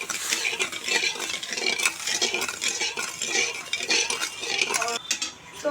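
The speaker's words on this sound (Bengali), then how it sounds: "ভালো করে চিনিটা নেড়ে আমি গলিয়ে নেব।" Sugar and water being stirred in a pan to melt into syrup for a carrot jelly sweet, with steady scraping and clinking of a utensil against the metal pan and a faint sizzle throughout, no talking.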